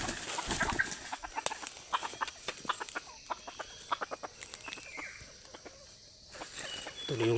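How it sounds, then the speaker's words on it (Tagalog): A freshly caught wild junglefowl gives repeated short clucks in an uneven rhythm, close and moderately loud, with a person talking at the start and end. "Ito na yung labuyo kahapon"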